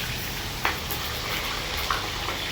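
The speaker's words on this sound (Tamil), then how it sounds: "மீன் நல்லா பொரிஞ்சிக்கிட்டு இருக்குது." Constant hissing sizzle of fish frying in hot oil, with a couple of faint clinks over the steady crackle.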